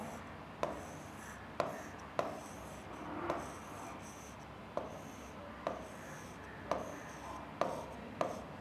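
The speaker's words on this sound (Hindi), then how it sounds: "यहां पर मैं प्राइस लिख लेता हूं।" A pen moves over paper in short, close scratchy strokes, each starting with a light tap, repeated at a steady pace against quiet background hiss, with no talking.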